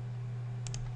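Two quick, light computer mouse clicks close together, made while refreshing a web page, heard near and alone over a steady low electrical hum.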